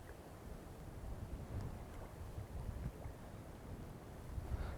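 Steady, faint wind rushing across a microphone beside the Upper Owens River during tenkara fly fishing near thunderstorms, a continuous low roar with small gusts throughout.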